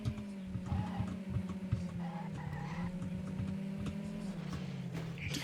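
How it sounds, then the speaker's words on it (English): A car in the Trackmania racing game skids and slams into walls, with a steady engine drone, tire scrapes and scattered impact clicks running continuously and loudly throughout. "This dumb, stupid loser likes crashing into walls like a dumbass."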